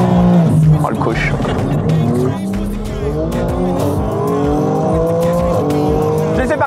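A fast car revs hard and accelerates with repeated tire squeals, engine pitch climbing through the gears, loud and close, while people talk over it.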